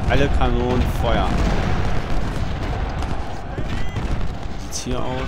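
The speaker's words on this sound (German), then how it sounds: "Alle Kanonen Feuer." Cannon fire in the Civil War strategy game Ultimate General: Civil War, with booming artillery rumbling under a voice speaking throughout.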